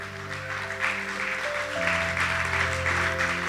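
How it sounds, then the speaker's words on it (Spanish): A church congregation claps in praise, steady broadband applause sitting under sustained organ or keyboard chords that shift pitch partway through. "Dale un fuerte aplauso al Señor."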